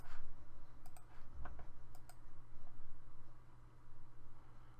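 A password being typed on a computer keyboard: a handful of sparse, light key clicks spaced out over a steady low background hum, with no one talking.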